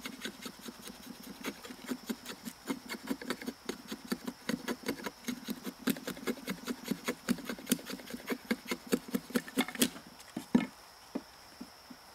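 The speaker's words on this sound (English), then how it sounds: "if you didn't and you just wanted to use your Tomahawk for shavings" A tomahawk shaves curls off a piece of wood at a bushcraft campsite, making a steady run of short, crisp scraping strokes that repeat quickly and evenly, close and moderately loud, with no talking.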